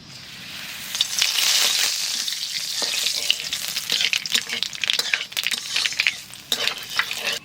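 Black cumin seeds and bay leaves dropped into hot oil while cooking a river fish curry: a steady, close sizzle with crackling pops and the scrape of a spoon stirring the pan.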